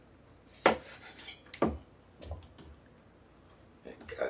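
A knife cuts through the soft flesh of a cantaloupe melon, giving a few separate close scraping strokes against a dish at an uneven pace, with quiet pauses between them.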